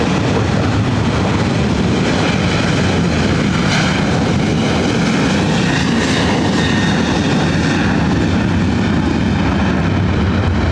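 A Delta airliner on its takeoff roll from runway 24 right at LAX, a loud continuous jet engine roar that holds steady and close for the whole stretch with no voices.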